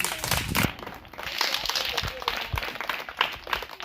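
An evangelical congregation at an outdoor gathering applauds, with dense, uneven clapping and crowd noise and some cheering voices mixed in throughout.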